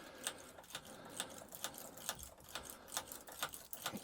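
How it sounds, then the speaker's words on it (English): A Lishi lock pick slides repeatedly in and out of a Mini R50, R52 or R53 door lock, making a soft, steady train of faint metallic ticks and scrapes at close range. "we're going to put the Lishi in, and we're going to move it in and out a few times just to make sure that everything is clear"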